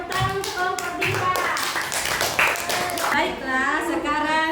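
Classroom clapping for a student group, a few close taps and claps under lively children's voices and chatter throughout.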